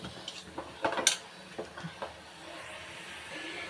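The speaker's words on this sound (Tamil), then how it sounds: "இப்போ மூடி போட்டுலாம்." A metal lid clinks onto an idli steamer pot in a home kitchen, a few light close taps and rattles before a soft steamy hiss settles in, quiet and with no talking.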